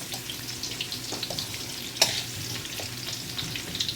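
Fish curry with carrots and potatoes fries in a pan while being stirred, a steady close sizzle with soft scraping stirs and one sharper clack of the utensil against the pan.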